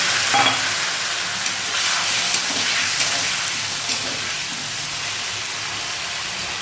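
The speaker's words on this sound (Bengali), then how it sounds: "চালটা ভাজা হয়ে গেছে, মশলাটা দিয়ে দিলাম।" Rice frying in a pan with spices just added, a loud continuous close sizzle and hiss that fades slightly toward the end.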